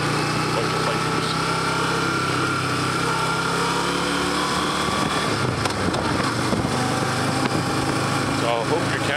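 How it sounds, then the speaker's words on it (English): A group of motorcycles rides past on a 40 zone neighborhood road. Their engines make a continuous, loud, buzzing drone, and a voice talks over it. "Look, bunch of bikers."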